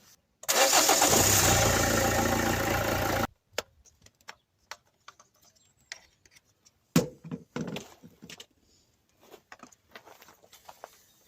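Renault Clio 2 1.5 dCi diesel started after a full oil change: the engine fires and runs loudly for about three seconds, then cuts off, followed by scattered close clicks and taps.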